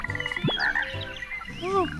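Frogs in The Plucky Squire video game croak in a quick series of rippling, pulsed calls, close and clear, overlapping with soft game effects and chirps.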